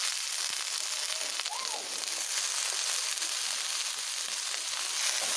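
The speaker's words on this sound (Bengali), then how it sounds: "একসঙ্গে এবারে সবগুলোকে ভেজে নেব।" Kharkol leaves frying in hot oil in a pan, giving a steady, even sizzle with fine crackle that holds through the whole stretch, with no voices over it.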